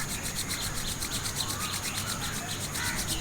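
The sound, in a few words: rubbing both hands together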